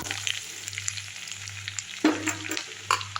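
Curry leaves and green chilies frying in a pan, with a soft, steady sizzle, a low hum underneath, and a few louder stirring scrapes near the end.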